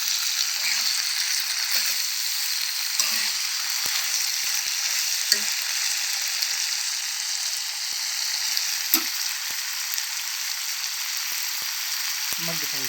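Broad beans fry in hot oil for a tomato curry with fish, giving a steady close hiss of sizzling throughout, broken by a few soft scrapes and taps as they are stirred.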